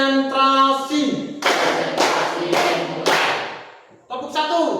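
Five distinct hand claps spaced about half a second apart, crisp and close, set between spoken counting from a voice in the room.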